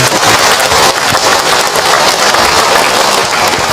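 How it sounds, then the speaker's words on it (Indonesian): Dense, steady applause from a crowd, loud and continuous throughout with no voices over it. "Tepuk tangan buat semua bunda yang ada"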